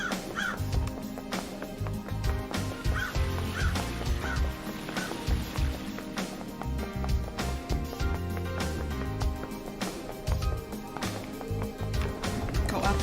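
Loud crows caw repeatedly in a video game, harsh calls layered over dense, rhythmic game music that runs continuously.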